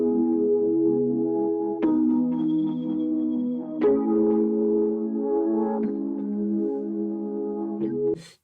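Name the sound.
keyboard track playing in a recording studio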